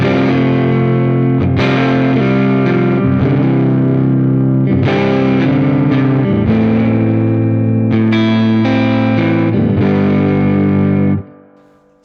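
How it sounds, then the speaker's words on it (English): A heavily distorted tube guitar amp with the volume knob on 10 plays chords for eleven seconds, thick and saturated with sustained ringing notes and a few rhythmic changes, loud and alone before cutting off abruptly. "as you can see, it's very distorted and it's a completely different amp sound"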